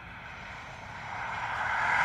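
Ryanair airliner leaving Dublin Airport from stand Sierra 6 for London Stansted, a distant engine rumble and hiss that slowly grows louder, with no voices.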